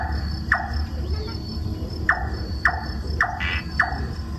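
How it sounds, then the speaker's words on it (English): A four-lined tree frog gives five sharp, clicking trill notes at irregular intervals over a constant drone of night insects at Singapore's Night Safari. "a four-line tree frog's trill,"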